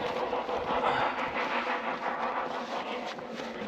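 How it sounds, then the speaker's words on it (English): A steam train rumbles past at a moderate distance in Wales, a continuous chugging roar with a rhythmic panting quality that swells and eases slightly throughout. "This is the steam train, And not the diesel."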